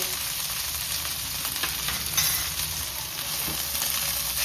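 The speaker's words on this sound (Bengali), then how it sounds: "লবণ দিয়েও একটু ভালো করে ভেজে নেব। চালটা যত ভাজা হবে তত পোলাওটা ঝরঝরা হবে।" Rice frying in a pan with salt for pea pulao gives a steady, even sizzle with occasional scraping stirs, close and moderately quiet, with no talking.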